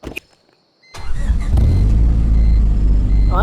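A Honda Civic with a manual gearbox in a Roblox driving game starts up after a brief quiet moment, then settles into a steady, loud engine drone that holds to the end.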